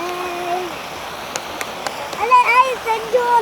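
Water rushes steadily through a drainage ditch beside rice fields in Salatiga, a continuous close hiss with a few light knocks, while voices chatter over it near the end.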